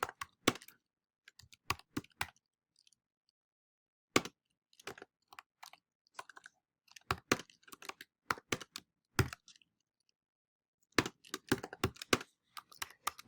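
Keys clatter in irregular bursts of quick, crisp taps on a computer keyboard while code is typed, with short silent pauses between runs; close and clear with no talking.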